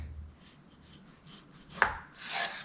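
A knife trims fat from a beef chuck roast with quiet slicing and rubbing strokes, ending in a sharp chop and a scraping pass near the board.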